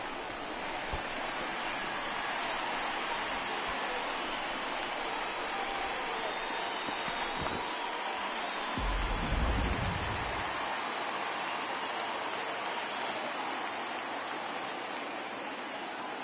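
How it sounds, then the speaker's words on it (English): A home crowd in a baseball stadium in MLB The Show 20, Tigers vs Royals, keeps up a steady hissing roar of cheering throughout, with a brief low swell near the middle. "the home crowd is absolutely eating this up"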